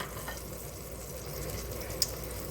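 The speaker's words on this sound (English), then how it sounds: "in our pan, I have the oil and the butter, and I'm going to add fresh garlic to the pan" Fresh garlic sizzles steadily in oil and butter in a frying pan, a constant close crackle and hiss with one small sharp pop near the end.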